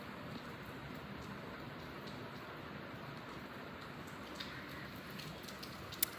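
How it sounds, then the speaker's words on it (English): Rain falls steadily on a rainy day, a faint, even hiss with a few scattered ticks of drops throughout, and no voices over it. "It's a rainy day."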